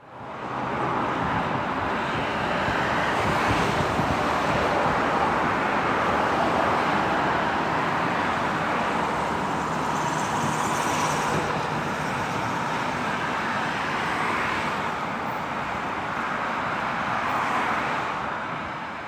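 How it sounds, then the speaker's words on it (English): Continuous roar of highway traffic with many vehicles passing, a steady loud wash of tire and engine noise with no speech. "this is the sound of many cars going by."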